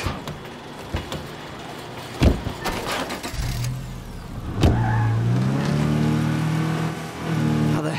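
A car in the video game State of Decay 2 starts up amid a few sharp knocks, then accelerates with a rising, steady engine drone. The close, loud engine hum keeps building and holds to the end.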